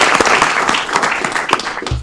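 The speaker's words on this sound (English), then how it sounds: "Another round of applause for the team putting that together." Applause from the audience at a city council meeting, honoring the team behind the first City of Lights Film Festival; steady dense clapping throughout, moderately loud and fairly close, with no talk over it.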